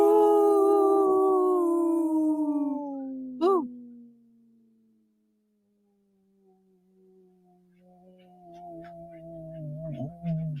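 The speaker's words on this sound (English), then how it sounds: "Very strong, healthy wolf right there." Wolf howling, a long, loud sustained howl that slowly falls in pitch, then breaks off with a short yip. A quieter, wavering second howl rises near the end.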